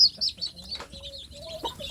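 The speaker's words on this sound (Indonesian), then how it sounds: "ini ramai sekali sedulur, ini anak ayam kampung saya sudah sehat-sehat" Young native village chicks cheep high and thin beside a brooding mother hen, the short chirps coming in quick, uneven bursts close by, with low murmuring and occasional softer clucks underneath.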